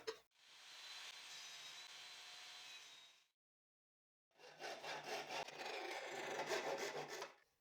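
Saw blade cutting pieces of old wood 8 millimetres thick with the blade set to 6 millimetres, two steady rasping cuts of about three seconds each separated by a short silence, close and loud.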